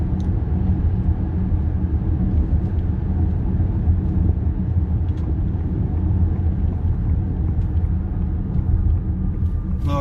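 A 2021 Ford Mach-E electric car on the move gives off a steady low rumble of road and cabin noise that holds evenly throughout, with faint higher clicks and no engine note.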